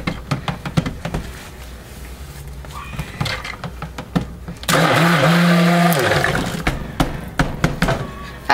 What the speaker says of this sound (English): Everybody's asked me about my stick blender too.